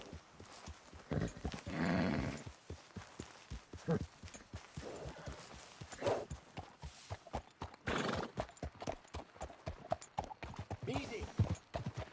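Horse hooves clip-clop at a steady gait in the Red Dead Redemption 2 video game, with occasional whinnies and a rider speaking over the rhythmic footfalls.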